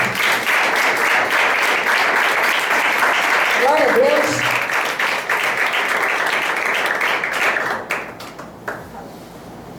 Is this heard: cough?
no